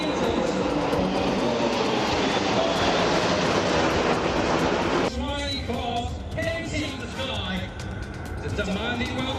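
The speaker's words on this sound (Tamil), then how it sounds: "மற்ற நாடுகளின் விமானங்களும் கண்கவர் புகைகளை எழுப்பியபடி வானை வட்டமடித்தன." Aircraft engines roar overhead at an air show as planes circle trailing smoke, a loud sustained drone that shifts in tone midway as a different plane passes.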